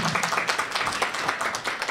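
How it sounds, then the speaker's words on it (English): Steady applause from a class audience fills the space continuously, a dense, fairly quiet patter of many hands with no clear break. "applause louder, little bit louder"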